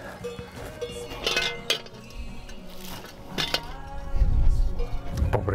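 A cow's cowbell with a harsh, bad tone clanks in irregular metallic clinks and rattles, fairly close, with a heavier low knocking near the end and no talk.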